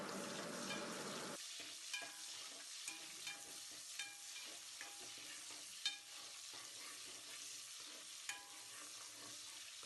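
Chopped onions fry in oil in a pan for mutton biryani, giving a steady loud sizzle with sharp spatula scrapes and clicks every second or so, and no voices.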